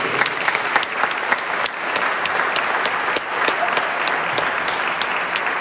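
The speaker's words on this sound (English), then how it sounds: "Let's get a round of applause for all of you." Crowd applause at a high school seniors night, a steady, loud wash of clapping from many people that carries throughout, with a few sharper individual claps standing out and no talk over it.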